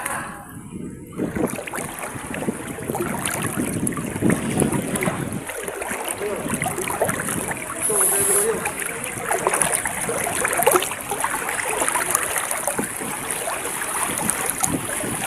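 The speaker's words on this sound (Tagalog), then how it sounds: "Lakas yung agos." Strong floodwater from Typhoon Carina rushes past at night, a continuous, broad, churning roar of fast-moving water that stays close and loud throughout.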